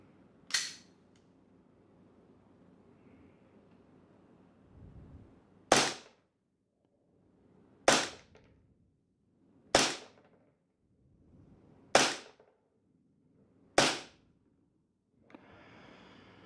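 KJW KP-01 airsoft pistol, a Sig Sauer P226 replica, fires .20 BBs in six sharp, loud cracks spaced about two seconds apart, each standing alone against a quiet background with a light rustle at the end.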